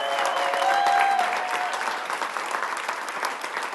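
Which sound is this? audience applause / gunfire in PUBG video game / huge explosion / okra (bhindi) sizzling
audience applause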